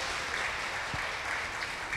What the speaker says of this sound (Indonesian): Tepuk tangan buat Habib Ja'far, luar biasa.